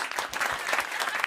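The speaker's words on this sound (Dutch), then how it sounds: "Applaus." Steady applause from an audience, dense clapping filling the space without a break.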